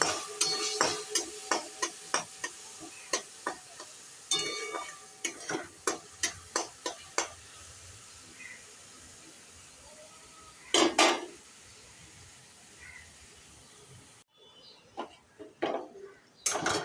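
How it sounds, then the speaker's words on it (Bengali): Garlic, onion, ginger and tomato sautéed in oil for a jackfruit and prawn curry: a quick series of close spatula clanks against the pan over a low sizzle, then a quieter stretch with a few louder scrapes. "এবার এই তেলে রসুন, পেঁয়াজ, আদা, টমেটোটা দিয়ে দেবো, দিয়ে কষতে থাকবো।"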